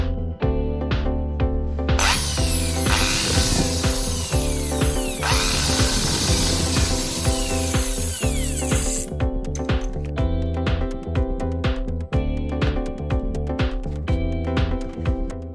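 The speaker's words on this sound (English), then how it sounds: "Test two methods of magnet rotor. I use a hammer drill which speed" Hammer drill at about 2800 RPM spinning a washing machine motor's magnet rotor, a loud whirring burst of several seconds between rhythmic mechanical clicking and ratcheting, close and steady.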